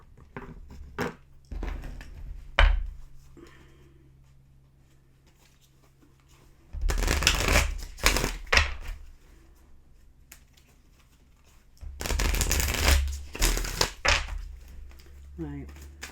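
Animal oracle cards are shuffled in two brisk, papery bursts, each about two seconds long and separated by quieter stretches with a few light taps. A voice speaks softly at times.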